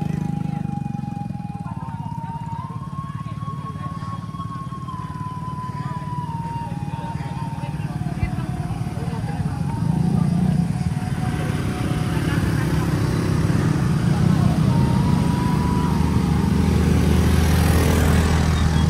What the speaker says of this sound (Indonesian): Ini ada alat berat yang nanjak sebelum rest area 4